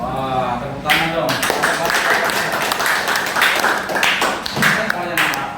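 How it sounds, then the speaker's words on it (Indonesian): A seventh-grade class in a school lesson claps hands in uneven bursts while a teacher keeps talking over it, the clapping rising and dropping in short waves. "tepuk tangan dong"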